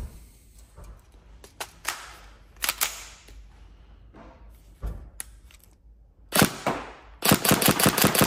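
Tokyo Marui MP5SD6 airsoft gun with a next-generation recoil system being fired after reassembly, giving scattered sharp clacks and a fast, loud burst of repeated shots near the end.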